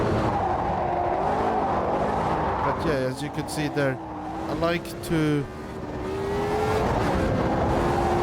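A race car engine drones and rises in pitch in Automobilista 2, with a car that understeers heavily and is driven with a high slip angle. Someone talks over it throughout.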